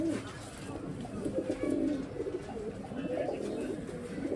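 Old line racing pigeons cooing softly in a loft, several low throaty coos overlapping at close range over faint background noise.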